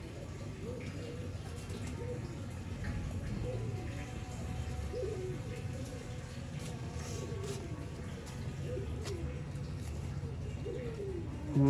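Zeera breed pigeons coo repeatedly in soft, rolling low calls over a steady background hum, continuing throughout.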